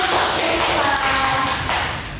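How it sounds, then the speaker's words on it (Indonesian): Students in a classroom applauding together, a dense, loud burst of clapping that stays steady and eases off slightly at the end. "Oke, tepuk tangan dulu"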